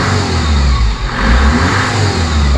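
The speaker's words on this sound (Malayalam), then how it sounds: "ഈ വിസിലടിക്കുന്നതാണ് ടർബോ." A Mahindra Scorpio turbo diesel revs loudly and close, its rumbling engine note swelling and dipping briefly before holding a high, steady drone.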